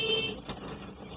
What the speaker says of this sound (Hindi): आप हॉर्न बजाकर क्या साबित करना चाहते हैं